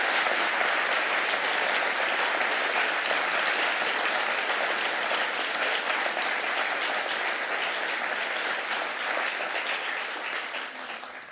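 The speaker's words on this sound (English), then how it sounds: "please join me again in a round of applause for Mr. Durstein and his incredible gift to Georgia Tech" An audience at a Georgia Tech institute address gives a long, dense round of applause for a donor, sustained and loud, tapering slightly toward the end, with no voices over it.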